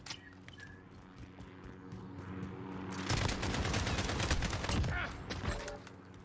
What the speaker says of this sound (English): I killed him with my last bullet.